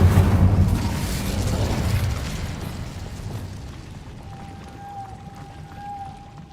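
A fire spell cast in the video game Hogwarts Legacy bursts out as a loud, roaring whoosh that gradually fades into a lingering crackle and a thin, steady tone.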